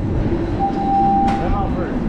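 Toronto subway train at a station, with a steady tonal hum, rumble and hiss and a brief sharp burst partway through, under crowd noise and voices nearby.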